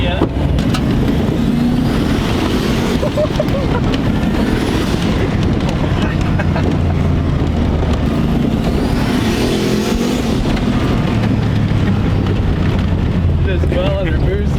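Rotary-engine minibike drives under boost, its engine buzzing and surging loud and close amid heavy wind rumble, with voices talking over it.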